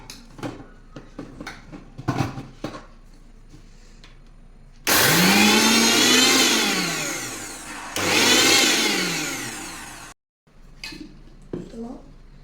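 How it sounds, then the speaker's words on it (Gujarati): A kitchen mixer grinder blends homemade ice cream premix ingredients in two loud bursts, a whirring motor that rises and falls with a short pause between runs, set among clattering utensils. "તો હવે આ બધું છે તે આપણે મિક્સરમાં પીસી લેશું."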